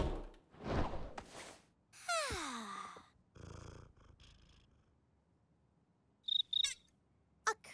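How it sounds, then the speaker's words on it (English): Indoors at night, a cricket gives a few short, high, bright chirps in quick bursts near the end. Quieter scattered sounds come before the chirps. "Is that a cricket?"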